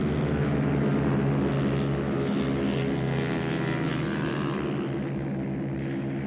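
TVS Apache RTR 200 motorcycles in an INMRC one-make novice race, heard as a loud, continuous engine drone that rises and falls slightly in pitch as the bikes circulate together, with no voices.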